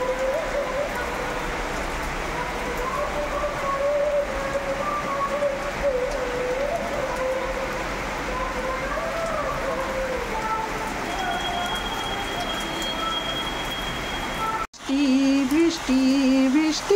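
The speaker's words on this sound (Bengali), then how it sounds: "দেখো আবার চেপে বৃষ্টি আসলো, আর এইটাই চাচ্ছিলাম যে খুব জোরে বৃষ্টি হোক" Heavy rain beats down on a wall in a continuous dense hiss, with faint bird calls over it and a brief break where the sound cuts out before resuming louder.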